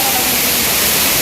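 Gadchandi double waterfall in Keonjhar roars as a dense, loud, unbroken wash of rushing water close by, with a voice speaking faintly beneath it.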